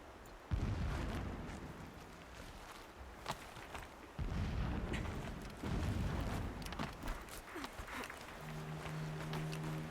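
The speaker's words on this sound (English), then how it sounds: "Explosions in the distance." Deep booming explosions rumble at intervals in the distance in the video game Horizon Zero Dawn, several heavy thuds rolling out over a constant background, with a low tone near the end.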